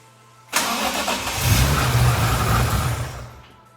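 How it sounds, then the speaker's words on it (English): A BMW E36 Touring fitted with a swapped S54 engine fires up for the first time: a short cranking burst, then the engine catches and revs up loudly, settling toward idle after a few seconds, close to the car. "First fire up on this car with this S54."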